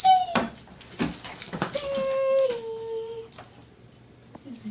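A dog whimpers and yips in a series of high, wavering cries and short squeals, close and fairly loud, with a few soft noises between the calls.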